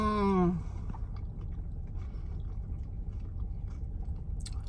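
A brief hummed murmur gives way to close chewing and biting of food, a steady soft crunching and smacking that fills the rest of the moment.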